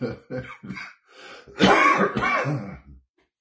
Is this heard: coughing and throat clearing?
yes